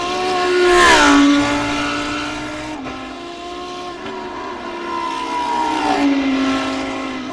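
A Simtek Lamborghini GT3 race car in a sim racing game, its engine note loud and close, rising and falling in pitch through gear changes and throttle lifts, with a steady high-revving drone throughout.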